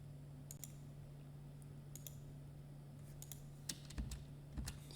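Keys tapped on a computer keyboard with a spacebar pressed, faint scattered clicks over a steady low hum, with a few louder taps near the end and no talk.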